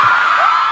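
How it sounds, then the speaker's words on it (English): Fans at a SHINee fan meeting in Dallas scream together in a loud, sustained, high-pitched crowd roar with a rising whoop near the end. "now I scream Mexico and everyone's screaming stuff."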